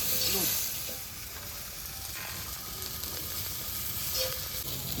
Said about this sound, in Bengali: পেঁয়াজটা হালকা ভেজে নিয়েছি, এবার দিয়ে দেবো কাঁচা লঙ্কা